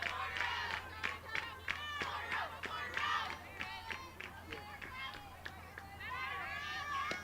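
Softball team cheering and shouting from the dugout during a college tournament game, a steady stream of excited voices and whoops with bursts of clapping, close and lively throughout.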